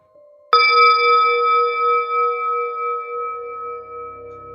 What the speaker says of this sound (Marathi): तेवढ्यात अचानक कुठून तरी दूरवरून मंद घंट्याचा आवाज आला